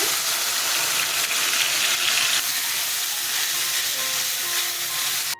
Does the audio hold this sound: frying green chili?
yes